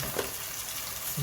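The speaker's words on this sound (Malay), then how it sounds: "baru kita masukkan cili kering yang telah di blender ke dalam kita punya bawang goreng" Blended dried chili sizzling as it is added to fried shallots in a hot pan, a steady close frying hiss with no talk.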